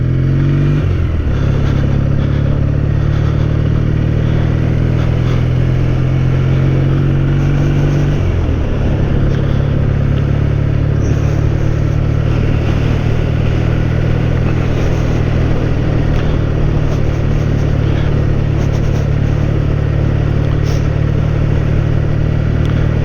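A Triumph T140 motorcycle engine drones steadily while riding through East Anglian village roads, a loud close exhaust note with a gear change early on, then constant cruising under rushing wind.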